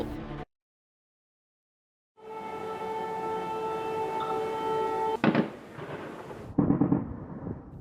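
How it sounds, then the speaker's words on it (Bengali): Air raid sirens and explosions in Kyiv, a loud wailing siren with steady tones after a brief silence, followed by sharp booming blasts near the end. "একের পর এক বিস্ফোরণ, সাইরেনের শব্দ প্রতিধ্বনিত হচ্ছে ইউক্রেনের রাজধানী কিয়েভ জুড়ে।"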